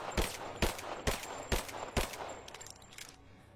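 Five sharp, loud gunshots from a video game fire at a steady rhythm, each with a short ringing tail, and fade into a quieter background with no talking.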